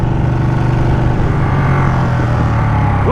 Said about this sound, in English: Good sound for the stock exhaust.